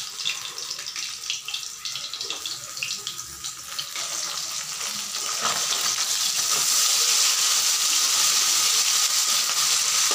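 Fish sizzle in hot oil as they fry, a steady hiss that grows louder and denser over the last half, with a few faint clinks early on and no talk.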